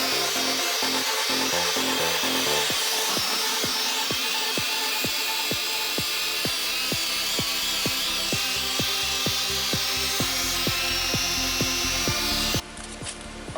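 A polisher at 1900 RPM buffs a yellowed car headlight, giving a steady, close whirring drone with a regular pulsing rhythm throughout, ending with a brief shift in tone.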